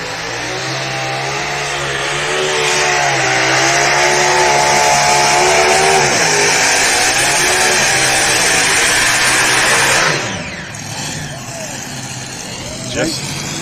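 A loud, heavy modified pulling-tractor engine roaring and straining at high revs for a long stretch at a tractor pull, then abruptly cutting back to a lower rumble.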